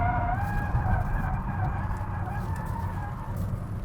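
Tyres of a 2023 Kia EV6 GT screech in drift mode, making a sustained skidding squeal with a wavering pitch beneath a low motor-and-road rumble, steady throughout with no talking.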